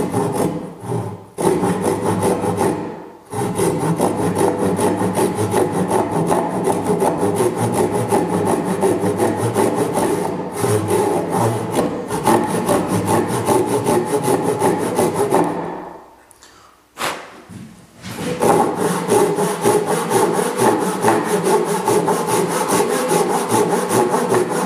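A Japanese hand saw cuts through wood in fast, steady rasping strokes, close and loud, with a few brief pauses before the sawing resumes.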